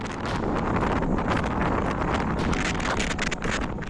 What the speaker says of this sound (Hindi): यहाँ ऐसी बर्फीली हवा चल रही है कि खून भी जम जाए।